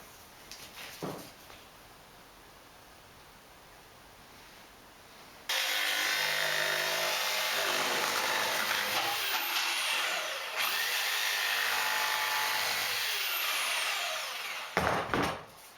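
A power tool whirs up suddenly and cuts steadily through a part being trimmed to fit, a loud close buzzing with a slight shift in pitch partway through, then cuts out near the end after a quiet stretch of room noise.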